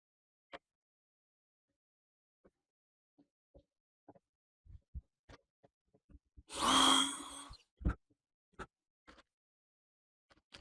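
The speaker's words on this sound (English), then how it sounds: "I drill one hole at a time to be able to correct the position of tuning pegs" A power drill bores a hole for a guitar tuning peg in one loud whirring burst of about a second, framed by scattered quiet clicks and taps of handling in a still workshop.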